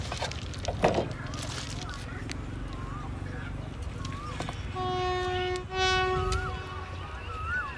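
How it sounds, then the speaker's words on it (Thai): A DD51 diesel locomotive pulls away on a railway track during ballast and track-levelling work, a low engine rumble under a steady horn-like tone, with someone talking over it. "DD51 ก็เคลื่อนตัวออกมาแล้วนะครับ"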